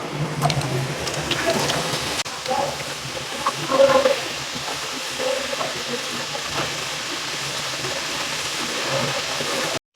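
Karasev dough being pressed through a perforated ladle into hot oil, with a steady broadband sizzle and hiss of frying running throughout at moderate loudness, plus small scraping and clinking sounds of the dough being rubbed through.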